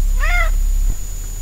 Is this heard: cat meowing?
yes